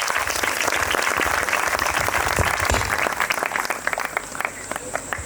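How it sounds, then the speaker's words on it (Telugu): An audience clapping loudly at a gathering, a thick sustained roll of applause that gradually thins into sparser claps with a faint tone underneath. "చప్పట్లు కొడదాం గట్టిగా"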